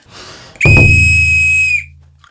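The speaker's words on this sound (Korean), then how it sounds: "호루라기?" A single loud, shrill whistle blast held steadily for over a second, then cut off, following some faint background noise.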